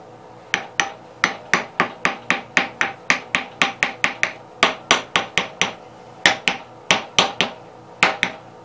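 Light hammer taps on the spindle shaft of a 1987 Gravely 12G, about two dozen sharp metallic strikes in a steady, close rhythm with no talk.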